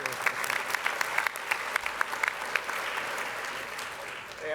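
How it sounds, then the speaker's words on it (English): Audience applause follows a nomination for promotion to Major General at a military intelligence conference plenary: steady, dense clapping from a seated crowd, sustained and moderately loud, fading slightly at the end. "A big hand, a big round of applause."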